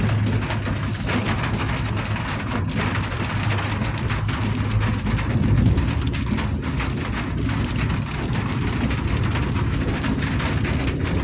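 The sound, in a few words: rain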